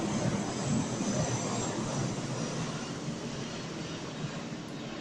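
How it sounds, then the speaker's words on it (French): An airplane passing overhead, a steady broadband roar that stays loud and even throughout with no voices over it. "il y a l'avion qui passe"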